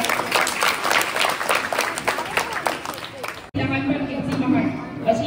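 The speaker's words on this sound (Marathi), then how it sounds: "आपण जोरदार टाळ्या वाजवूया" Loud, dense applause from an audience at a school event honouring a guest, steady clapping for about three and a half seconds before cutting abruptly to a quieter room murmur.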